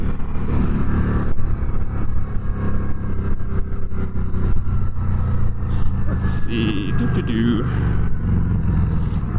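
A Harley-Davidson V-Rod Night Rod Special motorcycle engine roars steadily, rising as it accelerates, while a person speaks briefly over the noise.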